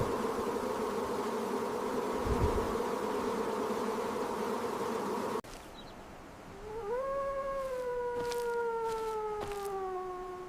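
A swarm of bees makes a steady, dense droning buzz in the first half, then a high, wavering tone rises and holds with faint clicks behind it.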